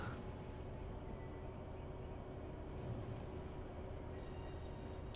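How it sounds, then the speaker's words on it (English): Steady low rumble of a tram running behind a bus in the Bus Simulator 21 game, a continuous dense rolling drone with faint hiss, constant in level and heard alone without talk. "It's a tram. The tram is behind us."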